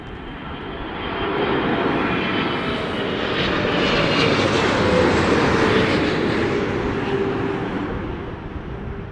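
An airliner lands in windy conditions at London Heathrow Airport, its engines swelling into a loud, broad roar that holds steady and then fades slightly, with no talk over it.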